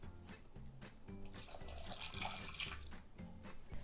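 Half a cup of water is poured into a saucepan of sugar for candy apple syrup, giving a close, steady splashing stream that is fairly quiet, with no talking.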